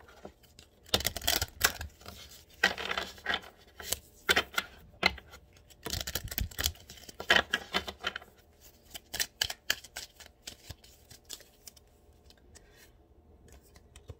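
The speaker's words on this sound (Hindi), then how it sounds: "एक कार्ड निकालूंगी, पहले शफल कर लेते हैं" Tarot cards are shuffled by hand at close range in repeated bursts of riffling and flicking, fairly quiet, with short pauses between runs and slower taps toward the end.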